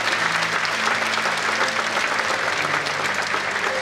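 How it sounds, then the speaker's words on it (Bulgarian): A school audience applauds at an anniversary concert, a dense, steady round of clapping that fills the hall at close range and stays even throughout. "Аплодисментите са за тях."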